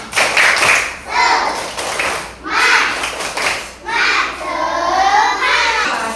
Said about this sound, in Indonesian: Kalau mau tepuk semangat dulu. Tepuk semangat.